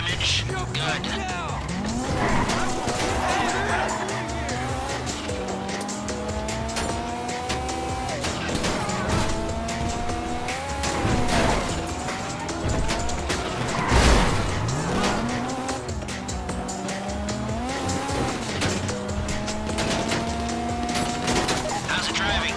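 A heist getaway car driving hard in GTA Online's Fleeca Job. The engine revs up and down through repeated gear shifts, with tire squeal and skidding throughout, close and loud without letup.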